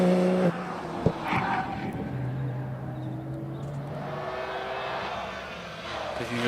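An early Porsche Boxster S with a 2.7-litre engine races up the Harewood hillclimb course during a British Hillclimb Championship event, its engine droning steadily with shifting pitch, heard from a distance over a commentator's voice.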